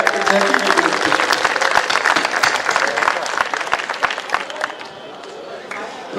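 Audience applause at a Banaras mushaira poetry recital: dense, loud clapping from a large crowd, steady for several seconds and then thinning toward the end, with some voices mixed in.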